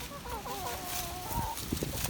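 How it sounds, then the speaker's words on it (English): A hen clucks close by with soft, short calls in a farmyard, amid steady outdoor background noise. "This is his hen."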